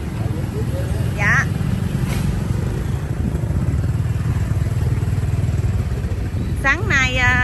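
A motorbike engine drones steadily as the bike is ridden along a rural road in the Mekong delta, a constant low rumble with people talking briefly over it.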